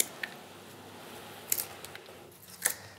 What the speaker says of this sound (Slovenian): Te liste zdaj na spodnji strani malo odstraniva, jih odreževa.